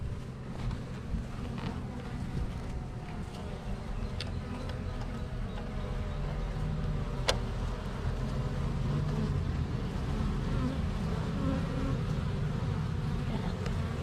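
Honey bees buzz around a beehive outdoors, a dense, steady drone of many insects close by, with a brief click partway through and no talking.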